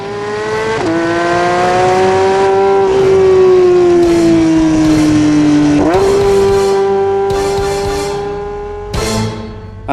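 A Porsche 992 GT3 with carbon ceramic brakes drives hard, its engine droning loud and close at high revs with several sharp pitch drops as it shifts and brakes, then fades briefly near the end.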